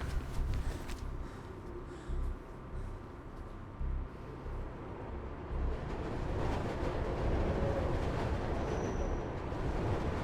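A subway train rushes past in the Mirror's Edge video game, a deep rumbling roar that swells and grows louder and denser over the second half.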